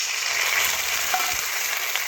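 Onions that have been fried until reddish sizzle and hiss steadily in a pan with ginger, cumin, onion and garlic paste, a close, continuous crackle with no talk.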